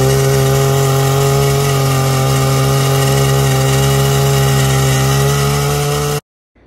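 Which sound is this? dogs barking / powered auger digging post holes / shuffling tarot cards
powered auger digging post holes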